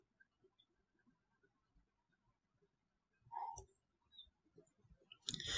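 Soft computer mouse clicks tick quietly and sparsely against near silence, with a brief louder burst of movement or rustle late on.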